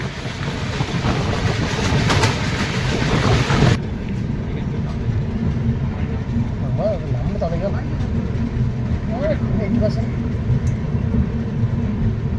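12343 Darjeeling Mail train running near New Jalpaiguri, with a steady rumble and rattle of rolling carriages. A voice talks over the first few seconds before the train noise continues alone.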